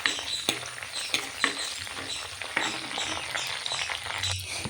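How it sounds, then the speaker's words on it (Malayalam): Garlic and ginger fry in hot oil in a pan for a Kerala fish curry, giving a steady close sizzle broken by sharp clinks and scrapes of a spoon stirring at a loose, irregular pace. "ഇനി വെളുത്തുള്ളി ഇഞ്ചി കൂടി നല്ലതായിട്ടൊന്ന് മൂപ്പിച്ചെടുക്കണം"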